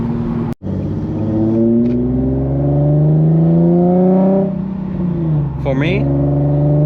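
A Nissan 370Z engine revs and pulls steadily while driving, its note climbing and then dropping back near the end, with speech heard over the engine.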